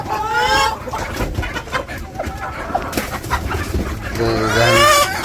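Farm chickens cluck and a rooster calls nearby, loud bursts at the start and end with scattered clucks and rustling between.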